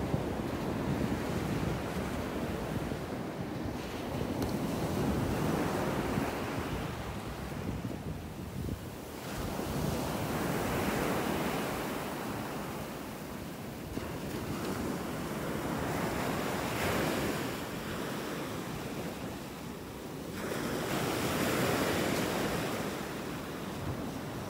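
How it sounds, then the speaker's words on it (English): Ocean surf pounds the shore at Delnor-Wiggins beach in North Naples, Florida, with waves surging and receding in rolling swells every few seconds under constant wind buffeting the microphone. "these waves are really pounding on the shore up here"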